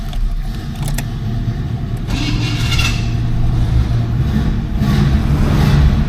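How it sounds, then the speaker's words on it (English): A 1977 Cadillac Deville V8 running steadily after a cold start, a loud, continuous low rumble with slight swells in revs and faint jangling and clicks near the start. "Cold start."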